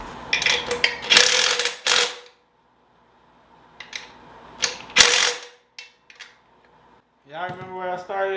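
A ratchet tightens the bolts of a three-piece wheel in quick bursts of close, sharp clicking separated by pauses, followed by someone speaking briefly at the end.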